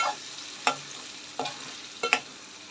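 Onion, tomato and coconut masala for Goan fish curry being stirred in a pan over gas, giving a quiet background sizzle with three or four scraping stir strokes spread over a few seconds, with no voices.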